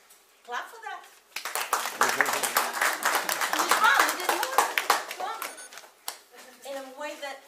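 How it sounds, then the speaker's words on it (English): An audience at a lecture on African drumming breaks into clapping, sharp rhythmic hand claps that build into a steady loud burst, with brief talking just before and after. "clap for that."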